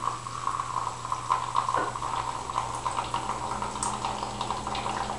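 Hot liquid pouring in a steady, continuous splashing stream into a container, close and fairly loud with no talking, in a kitchen where flowers are being steeped and strained.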